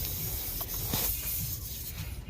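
A faint continuous hiss of air leaking from a vehicle's air suspension, steady and low against a rumbling background, with no talking.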